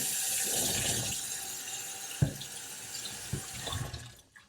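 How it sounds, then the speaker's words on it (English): Hot water runs from a tap into a sink to rinse a paint roller cover soaked with water-based paint, a steady hissing gush with a few sharper splashes and clunks before the flow tapers off at the end. "Now I'm going to rinse it out with, I'll just use hot water."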